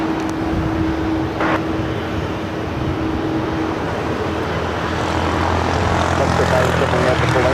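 A Q400 turboprop airliner turns onto taxiway Bravo at LAX, its propeller drone steady and moderately close, swelling slightly toward the end, with talk running over it.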